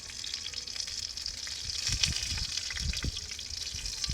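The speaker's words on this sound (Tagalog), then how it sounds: "Hintayin lang natin siya guys maluto, golden brown, tapos saka na naman natin siya ibabaliktad." Lumpiyang kangkong, water spinach spring rolls, fry in hot oil with a steady, close sizzle and occasional crackling pops throughout, and no one talking.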